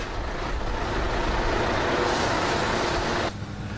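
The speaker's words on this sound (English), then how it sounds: "120 garbage trucks dump their loads into the waste bunker every day." Heavy rumbling and roaring of garbage trucks unloading waste into the bunker of a waste-to-energy plant, a loud continuous mechanical din that drops off sharply near the end, with no talking.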